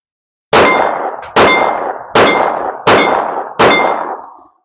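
Five sharp gunshots from a SIG P320-type handgun fitted with a steel frame, fired at a steady pace about a second apart, each crack loud and close with a ringing tail.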